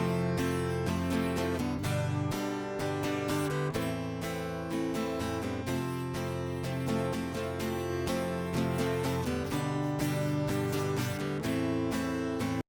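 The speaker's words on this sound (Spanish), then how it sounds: "Aquí tenemos lo que son las guitarras acústicas" Acoustic guitars in a mix strum steady rhythmic chords with bright, busy attacks over a continuous, evenly loud pattern, carrying the rhythm and harmony throughout.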